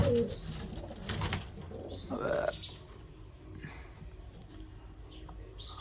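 Pigeons in a breeding setup coo softly in repeated low, throaty calls, fairly close, with faint background noise between the phrases.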